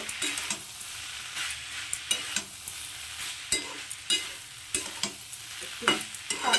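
Fried eggplant mixed and fried with drumstick stems in a pan: continuous sizzle close by, punctuated by sharp, irregular spatula knocks and scrapes against the pan, without speech.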